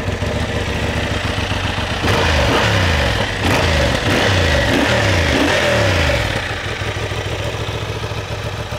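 Honda Hornet CB750 motorcycle engine running while warming up in its first minute, a steady loud mid-pitched drone with repeated rising revs blipping in the middle stretch before settling back toward idle.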